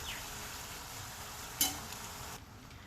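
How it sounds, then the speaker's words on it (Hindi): Pieces of Sindhi dal pakwan dough frying in hot oil, a soft steady sizzle with bubbling hiss, one brief sharp clink partway through, quiet and close with no talking. "इन्हें भी सेम प्रोसेस से हम फ्राई कर लेंगे"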